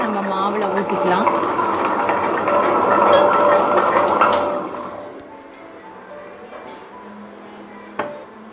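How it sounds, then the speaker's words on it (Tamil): Water is poured into idli batter of ground rice and urad dal in a kitchen, a steady close splashing pour that tapers off, followed by a faint clink. "இந்த தண்ணியை நம்ம மாவில் ஊற்றிக்கலாம்."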